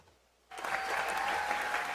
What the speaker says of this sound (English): Where's my fucking clap sound?